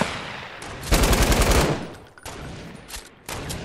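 Rapid automatic gunfire in a Fortnite Battle Royale match, a loud close burst of rattling shots followed by more scattered, slightly quieter shots.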